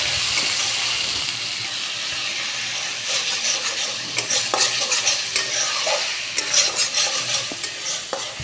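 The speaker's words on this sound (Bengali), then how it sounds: "আমি পেঁয়াজ লঙ্কাটা যেটা পেস্ট করেছিলাম এটা তেলের মধ্যে দিয়ে দিলাম," Onion-chili paste sizzles and hisses in hot oil while being stirred for a prawn malai curry. The frying is steady, and scraping stirs grow louder and more rhythmic partway through.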